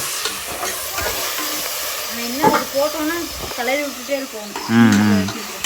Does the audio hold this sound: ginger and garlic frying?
yes